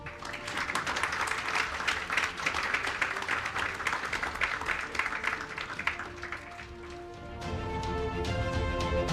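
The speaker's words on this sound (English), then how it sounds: "Applause will continue." Applause from a summit audience as a bank CFO accepts a token of appreciation: a full room clapping steadily, thinning near the end as a few sharp claps and a light musical tone come through.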